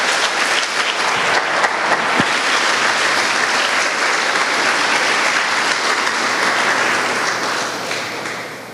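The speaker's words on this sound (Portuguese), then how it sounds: "Pode dar um aplauso a Ele e celebrar a Ele nessa noite." A church congregation applauds during a sermon: dense, loud, sustained clapping from a large crowd, holding steady for several seconds before easing slightly at the end.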